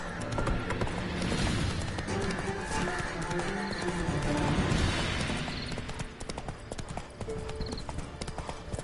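Horse hooves galloping in a video game, a steady rapid clip-clop rhythm close and loud, with game music and a brief voice over the top.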